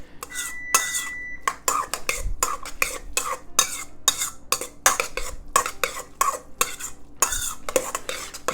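Cooked fregola being stirred with olive oil in a bowl: a rapid, rhythmic series of close scraping and clinking strokes of a utensil, with short pauses between bursts.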